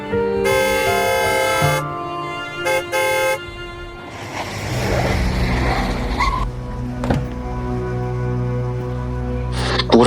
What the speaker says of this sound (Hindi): कब से हॉर्न बजा रहा हूँ।